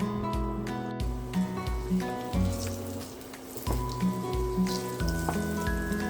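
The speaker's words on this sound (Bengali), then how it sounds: "আলুগুলো ভাজা হয়ে গেছে, এবার আমি আলুগুলো একটি বাটিতে তুলে নিব।" Potatoes sizzle as they brown in a pan for Bengali bhuna khichuri. A soft, continuous crackle sits under a repeating tonal background.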